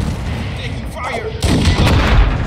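Gunfire in Call of Duty Modern Warfare II Ground War at Al Malik International, a steady rattle of distant shots that gives way to louder, closer booming reports in the second half.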